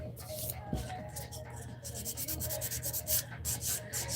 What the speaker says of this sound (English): So I'm just going to go over it with this fine file.